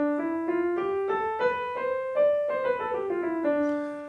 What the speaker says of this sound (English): the Dorian scale sounds like this